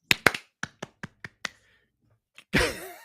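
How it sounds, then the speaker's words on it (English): Podcast hosts clap in together: a quick run of eight or so sharp hand claps in a loose rhythm, then a pause, a lone tap and a burst of cheering voices. "Let's clap in."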